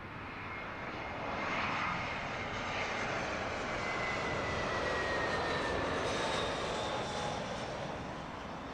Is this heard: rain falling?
no